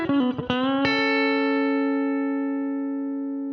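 A country guitar runs through a Boss CS3 compressor, DD500 slapback echo and RV6 reverb: a quick run of picked notes ends on a bright chord that rings out and slowly decays over several seconds.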